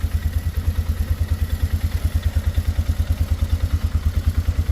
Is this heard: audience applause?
no